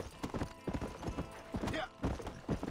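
Horse hooves clip-clopping in the Red Dead Redemption video game, a rapid uneven run of sharp thuds from a galloping horse, fairly close and quiet, with a faint whinny-like tone partway through.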